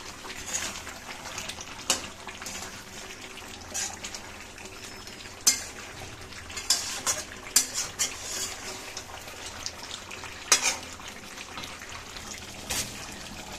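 Roast is mixed and turned in a pot, with a soft background sizzle and scattered sharp clinks and scrapes of a utensil against the pot.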